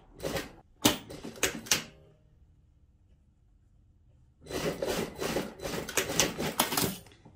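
A sewing machine stitches a mended school uniform dress in two bursts of rapid mechanical clatter, separated by a quiet pause of about three seconds. The sound is fairly close and heard alone.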